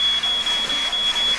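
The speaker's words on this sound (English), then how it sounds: "that's the fire alarm!" A fire alarm sounds indoors after a firework sets off trouble in a kitchen, giving a steady high electronic tone that keeps pulsing with brief dips under a dense noisy background.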